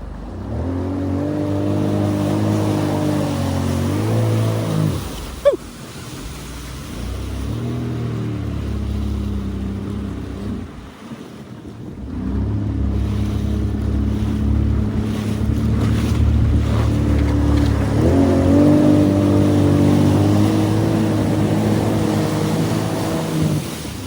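Yamaha Jet Blaster stand-up jet ski on open water, its engine revving hard in loud, close surges, dropping to a low idle for a few seconds near the midpoint, then climbing back to a strong, wavering whine with water splashing underneath.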